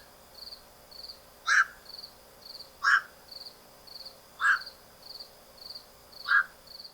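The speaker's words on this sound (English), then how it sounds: "At night, they often give a very distinctive deep call that reveals their presence" A night heron gives four deep, harsh single calls at a steady, unhurried pace, each short and clear against a quiet night backdrop with a faint, regularly pulsing high insect-like tone.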